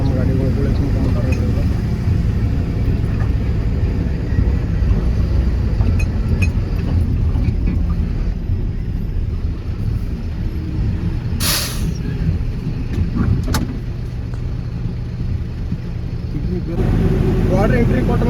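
A loaded mining truck on the road from Thakur mines toward Goa drones with a heavy, steady engine roar that dips briefly midway, with a sharp hiss like an air brake, while someone talks over it.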